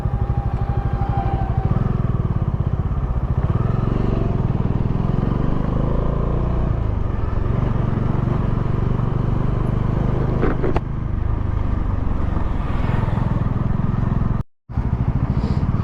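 Continuous traffic rumbles across the Farakka bridge, cars and motorbikes passing close in a steady, loud roar of engines and tyres, heard from a moving motorbike with wind buffeting throughout.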